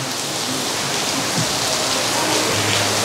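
Steady rain pours down at an outdoor classic car breakfast meet in Singapore, a dense continuous hiss of drops striking surfaces that fills the whole stretch at an even, fairly loud level with no voices.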